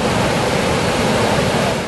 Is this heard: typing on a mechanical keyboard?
no